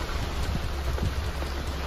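Steady heavy rain hisses without a break on Khandoba hill near Pune, with a low rumbling noise beneath.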